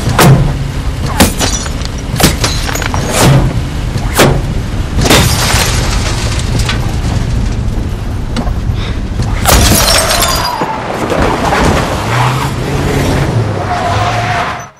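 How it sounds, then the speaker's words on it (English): A loud, chaotic film car crash from No Country for Old Men: sharp bangs, crunching metal and shattering glass over a rumbling engine, ending abruptly. "They crash and Moss gets out of the car."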